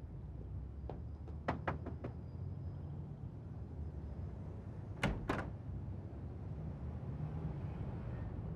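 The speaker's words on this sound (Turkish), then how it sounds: "Kapıyı çalar mısınız?" Knuckles rap on the door of a house: a quick group of four sharp knocks, a pause, then a second tight burst of three, close and distinct over quiet background hiss.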